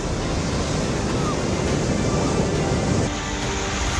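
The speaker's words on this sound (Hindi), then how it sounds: "जहां तूफानी हवा और समंदर की लहरें कहर बरपा रही हैं" Storm wind and crashing sea waves as Cyclone Fengal makes landfall on the Tamil Nadu coast, heard as a loud, continuous roar of surf mixed with gusting wind buffeting the microphone.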